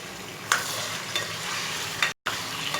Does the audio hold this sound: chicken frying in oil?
yes